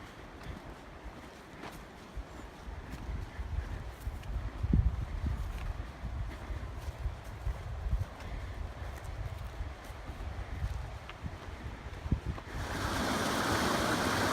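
A river flows steadily in the mountain backcountry along the John Muir Trail, a continuous broad rushing wash heard close and alone, with a louder surge of water noise near the end.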